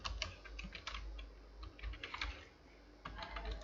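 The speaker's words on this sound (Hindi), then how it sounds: "मैं प्रोग्राम नेम टाइप कर देता हूँ।" A computer keyboard clatters as a program name is typed, with fast, uneven key clicks close by and a brief pause midway.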